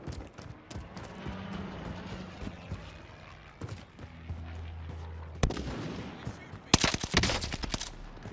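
Rapid gunfire in the Warzone video game, bursts of automatic shots over a low rumble, with a louder sharp volley near the end.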